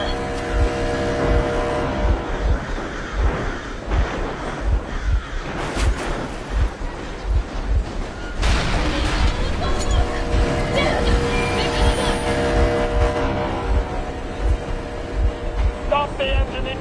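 Boat engine running in Metro Exodus, a steady throbbing motor drone with regular low pulses throughout, loud and close, mixed with game sounds and a passing voice.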